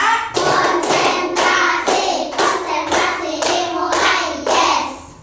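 A class of students doing a counting clap ice-breaker, a series of about six loud unison group claps in a steady beat, close and dominant with no talking.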